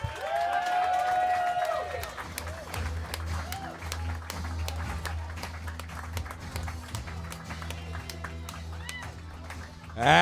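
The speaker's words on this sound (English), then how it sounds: "Clap it up for Patrick Schroeder" Crowd at a roast battle event claps and cheers as a comedian comes to the stage, a steady wash of applause with whoops, while people talk over it and music plays.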